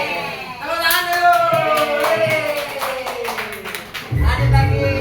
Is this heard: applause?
yes